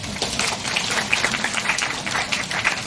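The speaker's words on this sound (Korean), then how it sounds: "스스로 박수 한번 드리겠습니다" An audience at a Dongtan International High School admissions information session claps, producing a dense, steady patter of scattered applause at moderate volume.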